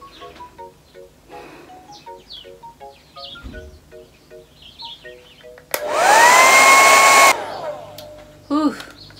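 A hair dryer blasting air to dry a lace wig starts abruptly after quiet background music, gives a loud steady whooshing roar for about a second and a half, then cuts off.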